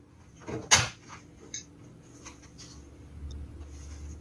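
A plastic lid snapping shut on an RKSB-104 dosimeter: one sharp close click followed by a few small faint clicks and handling rustles nearby.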